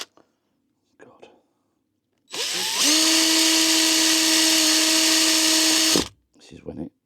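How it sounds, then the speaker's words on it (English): A power drill whines steadily for about three seconds at close range, drilling pilot holes for an above-ground pool skimmer, bracketed by brief quiet handling noises before and after. "I'll drill some pilot holes now."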